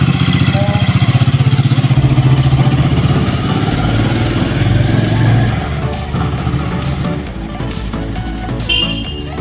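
Motorcycle engine running steadily at close range on a road in Kolkata, a loud continuous hum with a rhythmic pulsing throb at first, later smoothing out, with a brief high tone near the end.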